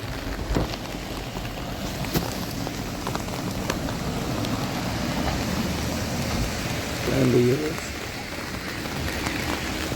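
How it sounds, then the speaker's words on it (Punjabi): Steady rain patters on a surface during the Mani Mahesh Yatra mountain pilgrimage, with a brief murmur of a voice partway through. "ਬਾਰਿਸ਼ ਪੈ ਰਹੀ ਹੈ"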